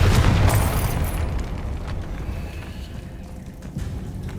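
A Confringo blasting spell detonates in Hogwarts Legacy, opening with a loud, low boom that rolls into a long rumbling decay with crackling debris fading over several seconds.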